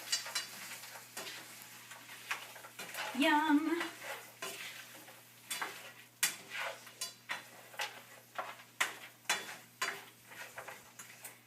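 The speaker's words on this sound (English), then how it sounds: "our pan is getting sizzly with our broccoli and our peppers" Broccoli and peppers are stir-fried in a pan with a faint sizzle beneath repeated sharp scrapes and clacks of a utensil stirring against the pan, and a voice briefly speaks.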